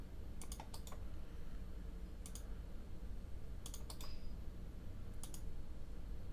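Several sharp computer mouse clicks, alone and in small pairs, spread across a quiet room hum while someone sets a watch in a debugger.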